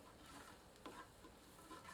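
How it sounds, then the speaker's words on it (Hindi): Spices and sauce fry gently in a pan over a low flame, giving a soft, continuous sizzle with faint stirring scrapes, quiet and close. "सबको मिलाकर धीमी आंच पर 1 मिनट तक भूनते हैं।"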